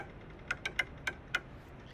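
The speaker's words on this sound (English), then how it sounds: "I tried drumming on a fence, and it sounded like this." Sticks drumming on an outdoor fence give five short, dry wooden taps in an irregular rhythm, close and fairly quiet over faint background noise.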